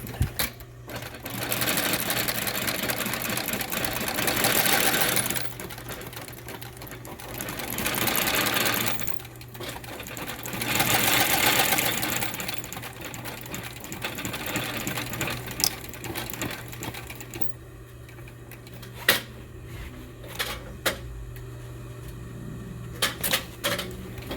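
A sewing machine stitches a slim leather pouch, a steady mechanical chatter with swelling faster runs and pauses, ending in sharp clicks and taps, close and loud with no voices.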